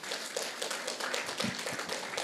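An audience at a seminar gives modest applause, a steady patter of scattered hand claps at moderate volume with no voices over it.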